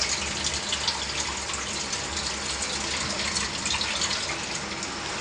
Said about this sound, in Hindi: पानी अच्छा निकाल रहा वाइपर से